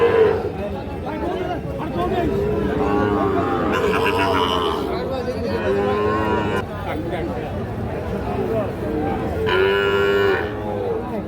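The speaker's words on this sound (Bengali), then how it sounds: "দেখছেন এগুলো সবই কিন্তু শাহিওয়াল ষাঁড় বাছুর।" Young Sahiwal bull calves moo repeatedly at a busy rural cattle market, several loud, drawn-out calls close by over steady crowd chatter and background voices.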